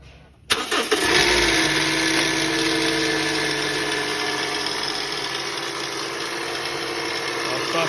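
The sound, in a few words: Toyota Voxy engine idling with a faulty noise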